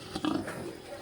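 A native pig crossed with Duroc grunts and snuffles close by, a short low oink.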